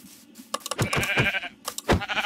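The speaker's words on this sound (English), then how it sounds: "look, more sheep" Sheep bleating in the Minecraft video game: several short wavering bleats in quick succession, close and fairly loud, with brief gaps between calls and no talk.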